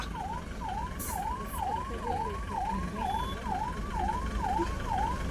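A loud ambulance siren sound from a car cycles rapidly up and down in pitch, over and over, with a low road rumble beneath and a couple of brief high clicks early on.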